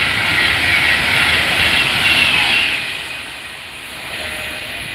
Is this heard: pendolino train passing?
yes